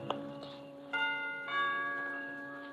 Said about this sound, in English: and I lean on the bell.